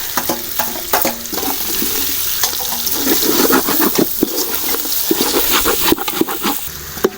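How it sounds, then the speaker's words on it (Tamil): Sliced big onions frying in a pot for mutton biryani, with a dense, bubbly sizzle, repeated spoon scrapes and clatter against the pot, loud and close throughout. "வெங்காயம் நல்லா வணங்கிடுச்சு."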